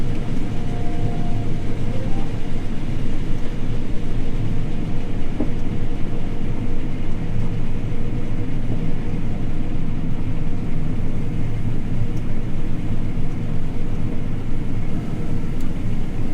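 A harvest machine working a field in a UK harvest, with steady loud engine rumble and machinery drone throughout, chopping straw; continuous and close, no speech.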